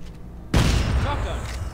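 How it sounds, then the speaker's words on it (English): Shotgun fired in the sci-fi horror game Dead Space 3: a sudden heavy boom after a quiet start, then a sustained dense roar of reverberant noise, loud and close. "Shotgun!"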